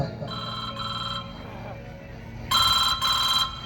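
A telephone rings after being dialed, giving two short ring bursts, then a louder, closer double ring, over a hum of stage background and faint voices.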